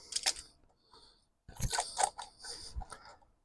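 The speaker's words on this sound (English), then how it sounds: "So set the mole grips, clamp, done." Mole grips snapping shut onto a spring-loaded clamp while a Mini Cooper S engine is being removed: a few sharp metallic clicks and ratchety clacks, close and fairly loud, in two short bursts separated by a brief quiet gap.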